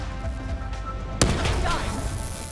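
A grenade explodes in the video game Call of Duty: Black Ops 3: one sudden, sharp blast partway through, followed by a rumbling, crackling tail over steady battle noise.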